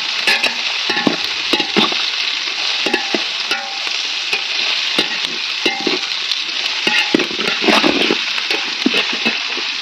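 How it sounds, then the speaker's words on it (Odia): Onions and chili frying in hot oil while being stirred in a pan for a chicken curry, a steady close sizzle with repeated scraping and clinking strokes throughout, no voices. "ପିଆଜ ପଡ଼ିକି ତେଲ ଲଙ୍କା ସବୁ ପଡ଼ିଯାଇଛି ଆମର"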